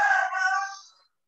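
A rooster near a house crows once in the morning, loud and close, a bright drawn-out call that fades out after about a second.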